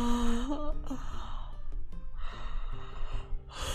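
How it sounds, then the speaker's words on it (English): A long drawn-out human yawn, loud and close, rising then trailing off with breathy voiced tones. "Oh, that was a good yawn."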